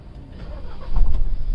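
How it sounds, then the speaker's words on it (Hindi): A Mahindra Thar diesel engine starts up with a short crank that swells into a steady, fairly loud, low idle rumble up close, with no talking. "वेरी रिफाइंड स्टार्टअप जैसे एक नॉर्मल कार का होता है"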